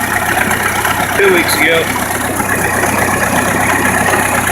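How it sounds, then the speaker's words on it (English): A tractor engine idles with a steady low drone while someone talks over it close to the microphone. "Sitting on a tractor here"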